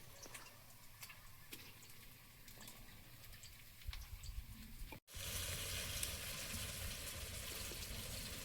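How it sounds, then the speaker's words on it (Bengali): Pumpkin flower fritters fry in a small amount of oil with a steady, close sizzle and crackle. The sound grows fuller and louder partway through after a brief gap. "একটু দেরি করে করে ভাজছি, কম তেলে ভাজবো তো ওই জন্য।"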